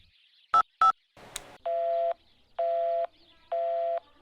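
A telephone is dialed with a few quick keypad tones and a short rustle, followed by three evenly spaced, steady electronic beeps on the line.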